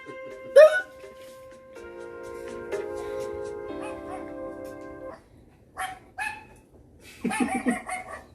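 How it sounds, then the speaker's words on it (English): During a podcast recording, a dog lets out a sharp bark, then a pause with faint background tones, and later a short cluster of further barks. "Y'all might hear a barking,"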